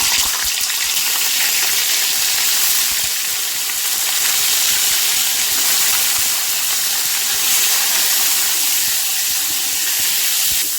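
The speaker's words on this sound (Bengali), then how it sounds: "এখন একটু পনিরটা ভেজে নিলাম" Paneer frying in hot oil in a home kitchen, a loud steady sizzle and hiss that continues without a break, close up and with no talking.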